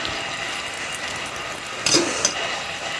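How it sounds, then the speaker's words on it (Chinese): Four beaten eggs fry in rapeseed oil in a wok that is swirled to spread the heat, making a soft steady sizzle with a brief clatter of the pan about midway. "下入鸡蛋液，拿起来这样晃动，让它受热均匀"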